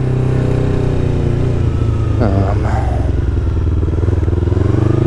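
A Yamaha R3 motorcycle engine revs close by with a throaty, pulsing rumble, pitch climbing briefly to the top of the rev range then settling to a steady idle-like drone.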